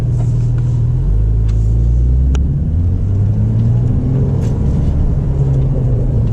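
A 2021 Porsche 992 Turbo engine rumbles low and loud from inside the car as the drive begins, its pitch shifting in steps with a few sharp clicks over the steady drone, and no one speaks.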